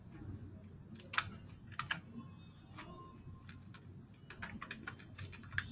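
Someone types a query on a computer keyboard, a quiet, irregular run of close key clicks with short pauses between bursts, no voice heard.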